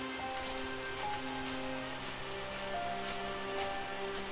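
Steady rain falling in a village, a dense continuous patter of drops on surfaces, even and close with no voices.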